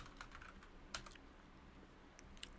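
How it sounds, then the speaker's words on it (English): Fingers tap out a short burst of keystrokes on a computer keyboard, quiet and close, with a few sharper clacks scattered irregularly through a light patter and no voices. "I could just type in here"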